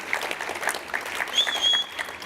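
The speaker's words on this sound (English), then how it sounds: "I appreciate the applause" Steady applause from an audience, a dense patter of clapping hands that holds at an even level throughout, with a faint crowd murmur underneath.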